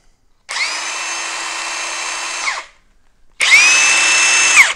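A RIDGID cordless power drill whirs at high speed for about two seconds, stops, then spins up again for another burst, close and loud.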